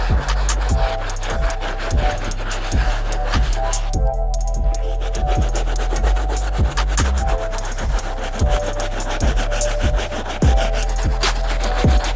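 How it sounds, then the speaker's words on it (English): Medium bristle brush scrubbing the upper of a worn Jordan 5 Retro sneaker with cleaning solution, loud close rhythmic strokes repeating about once or twice per second, with a brief pause midway. "We're just gonna go straight to the medium bristle brush."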